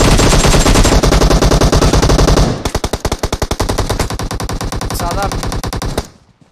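Loud, rapid machine gun fire in PUBG Mobile, first a sustained stream of rounds, then a string of quick separate bursts that stops abruptly near the end, with a brief spoken word mixed in.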